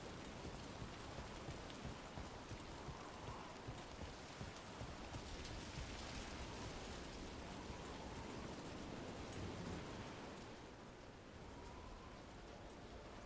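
Steady rain pours down in Dragon Age: The Veilguard, a dense, even wash of drops hitting surfaces that continues unbroken from start to end, with no voices over it.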